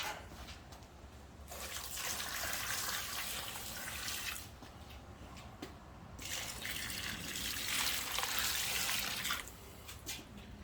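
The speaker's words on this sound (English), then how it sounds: "A little bit of water to start." A little water runs from a tap into a bucket in a garage, two sustained splashing bursts with a short pause between them, fairly quiet and close, with no speech.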